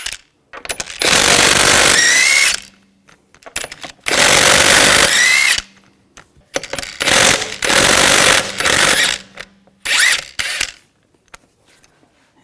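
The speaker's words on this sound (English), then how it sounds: "Now we're going to remove the wheel, use a 19mm socket. Take the lug bolts out." Power tool spinning 19mm socket to remove the rear wheel lug bolts on a 2000-2006 BMW X5, with four loud, close bursts of whirring and ratcheting separated by brief pauses.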